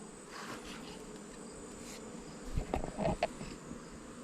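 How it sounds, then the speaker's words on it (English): Honey bees buzz softly around capped honeycomb in a backyard hive, a faint steady drone with a few louder passes close by near the end. "See the bees cruising around in there."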